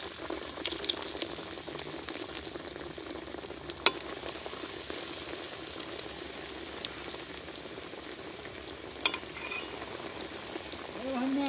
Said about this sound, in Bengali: আমি বাকি পুরগুলোকেও একইভাবে ভেজে নেব।